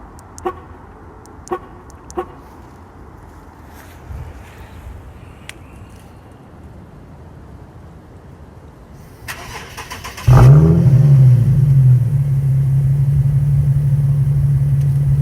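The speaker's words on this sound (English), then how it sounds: "Let me give you guys a cold start." An Infiniti G37 is started by remote start: a few short beeps and a chirp at the beginning, then the engine cranks and catches with a loud flare, settling into a steady idle close by.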